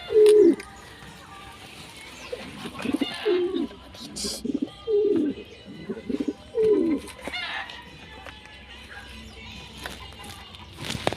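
Pigeons coo inside a loft in a rhythmic series of low, rolling calls, about six distinct bursts spaced a second or two apart, fairly close, with light rustling and faint background noise between them.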